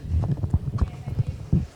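Hoofbeats of a horse performing a Grand Prix dressage test in an arena, a steady rhythmic clip-clop under continuous commentary talk, with one heavier footfall near the end.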